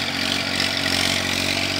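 A Massey Ferguson 1035 DI tractor pulls a tiller, its engine running in a steady, moderately faint drone that holds even throughout with no talking.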